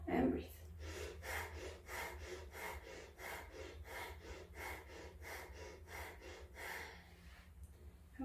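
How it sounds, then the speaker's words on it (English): Steady rhythmic pranayama breathing with hands resting on the chest, about a dozen even breath cycles repeating close and clear, with a faint low hum underneath. "So we're going to put our hands on our pectoral and breathe."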